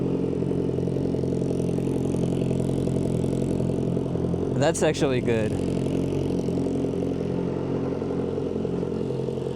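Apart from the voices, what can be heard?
Kawasaki ZX-4RR motorcycle exhaust idling with dB killer installed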